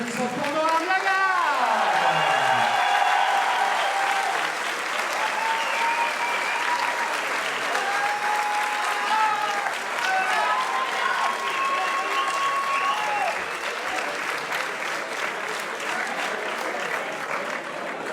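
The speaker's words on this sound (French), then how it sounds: "Un tonnerre d'applaudissements pour Noam Lagarde." Loud, sustained applause from a large crowd at an awards ceremony fills the whole stretch, with cheering and a voice calling out over the clapping.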